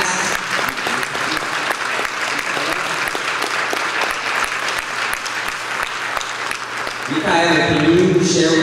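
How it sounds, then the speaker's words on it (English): Steady audience applause after a talk, dense and sustained for about seven seconds, then giving way to a voice speaking near the end. "Can we clap it up for you?"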